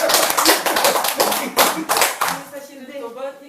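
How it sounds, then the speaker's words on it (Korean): At a Buddhist dharma meeting, a small audience claps close and loud, a burst of uneven hand claps lasting a couple of seconds, then fading as a voice begins speaking. "박수 크게 치죠."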